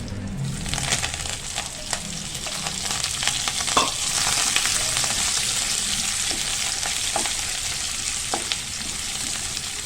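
Curry leaves, onion and green chillies fry in a pan, giving a steady close sizzle broken by occasional spatula scrapes and taps as the mix is stirred, with no talking.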